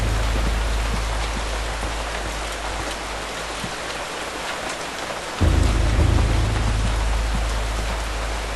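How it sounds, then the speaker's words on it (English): Steady rain pours in the Eternal Darkness game, a dense continuous hiss with faint low rumbles like distant thunder, and the downpour swells a little louder partway through; no one speaks. "And now it won't stop raining."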